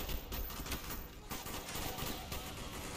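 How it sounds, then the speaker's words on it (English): Sustained covering gunfire in the shooter Call of Duty Black Ops: dense bursts of automatic rifle and machine-gun fire crackle continuously, close and loud, with overlapping shots and no clear voices. "Bowman, Carlos, lay down covering fire."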